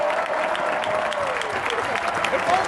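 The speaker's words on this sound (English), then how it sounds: "That is pure Metropolitan Opera at Lincoln Center applause." Enthusiastic Metropolitan Opera audience applause at Lincoln Center after a Moby-Dick performance: a full hall of dense, sustained clapping heard at a steady, loud level throughout.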